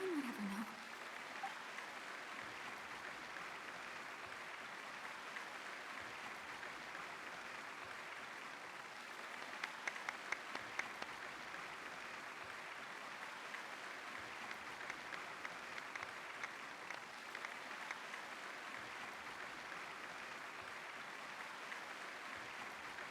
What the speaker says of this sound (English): The applause continue after I take off the mask.